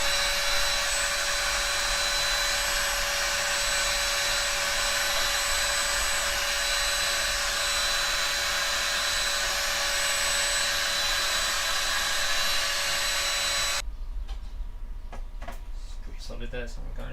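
A vacuum hose sucking debris out of a tight spot, a steady loud whine running without a break for most of the time, then cutting off into a few clicks and handling noises near the end.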